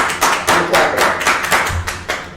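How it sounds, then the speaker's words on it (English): Hands clapping in a few quick irregular bursts, close and fairly loud, in an indoor podcast setting. "I'm clapping up."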